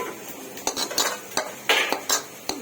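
Metal spoon scraping and clinking against a cooking pot as spice masala is stirred into boiled bat (mutton) curry, a series of sharp close clanks at uneven intervals over a faint background hiss.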